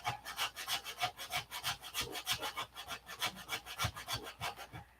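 Putty on a balsa wood model being sanded by hand in quick, steady back-and-forth strokes, a soft rhythmic rasp close up with no talking.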